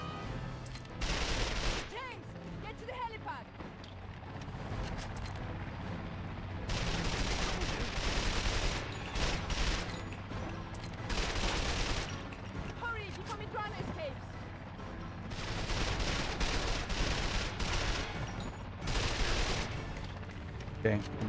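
Sustained gunfire in 007: Quantum of Solace on PS2, with dense bursts of automatic shots and impacts in waves over twenty seconds, loud and continuous, while a voice talks over the shooting.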